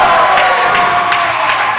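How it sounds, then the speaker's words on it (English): Wrestling fans roar and cheer steadily throughout a live indie match, a dense, loud crowd noise with occasional sharper whoops and shouts rising out of the din. "These fans are cheering for Sean Vincent"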